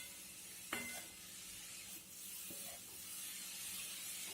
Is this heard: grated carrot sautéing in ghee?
yes